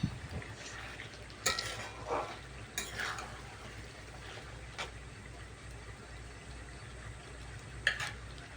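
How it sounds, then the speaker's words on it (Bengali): Chicken curry with pre-fried potatoes being sautéed in a pan, a low simmering sizzle with a few sharp clinks and scrapes of a spoon against the pan, close and quiet, without speech. "তো চলো আরও কিছুক্ষণ কষাবো তার আগে আলুগুলো যেগুলো ভেজে রেখেছিলাম সেগুলো দিয়ে দিচ্ছি মাংসের সাথে"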